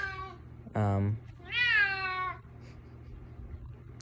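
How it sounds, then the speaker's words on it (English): A cat meows twice nearby, a short call followed by a longer drawn-out one, heard over quiet room tone with faint background hum. "my cat's right here"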